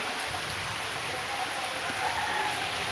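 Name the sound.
light sudden summer rain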